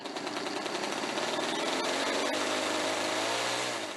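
A Cri-Cri mini aircraft's 200 cc brushcutter-type engine runs steadily and loudly for the whole stretch, a dense buzzing drone with a faint tonal whine and no talk over it.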